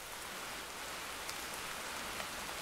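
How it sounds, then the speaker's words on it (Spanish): Steady, dense rain falling in a video game, an even hiss of drops on surfaces that fills the whole short stretch without pause, with no voices heard. "Vaya lloviendo, vaya."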